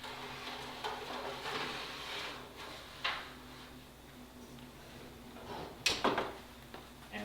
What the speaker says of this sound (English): Now take your baking dish and carefully, not tip anything over, slide it into your oven.